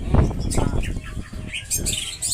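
A white-rumped shama (murai batu) songbird chirps in quick bright notes over a noisy low rumble and background clatter, heard near and moderately loud.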